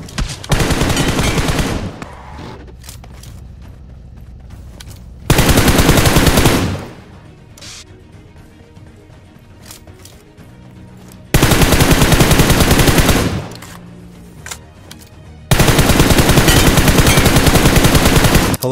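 Loud sustained automatic gunfire sprays in BGMI, four long bursts of rapid shots with quieter gaps of game ambience between them and no talking.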